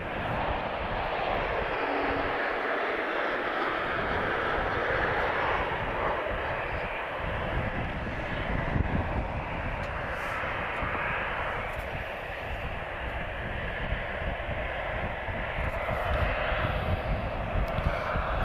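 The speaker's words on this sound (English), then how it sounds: "inbound TAP Express is TP1451 arriving from Marrakesh" A TAP Express aircraft arriving from Marrakesh gives a steady, moderately loud jet roar lasting throughout, with a voice talking intermittently over it.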